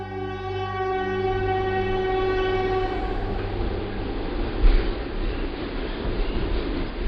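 A train rumbles along steadily, with a long sustained horn blast over the first few seconds, then continued rolling noise and rattling.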